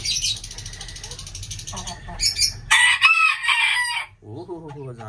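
A rooster crows loudly and close, followed by squawking and clucking from a hen, with a brief human voice near the end.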